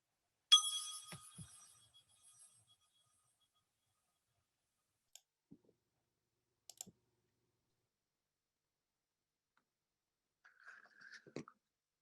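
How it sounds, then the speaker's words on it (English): A single bell is struck once at the start of a Unitarian Universalist service, a clear bright ring that decays over about two seconds, followed by long silence and a few faint, sparse clicks and handling sounds. "I ring the bell."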